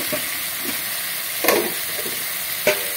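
Ground spice masala with a whole tomato fries in a pan for a Bengali fish roe dish. A continuous hissing sizzle runs throughout, broken by a few sharp spatula clinks and scrapes, with no talking.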